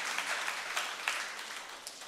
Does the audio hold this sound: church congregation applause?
yes